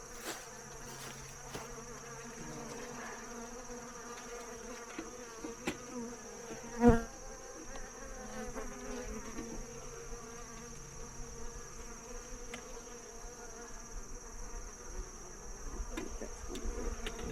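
Honey bees buzz around an opened beehive lid in a steady, close, droning hum that persists throughout, with a single sharp knock partway through.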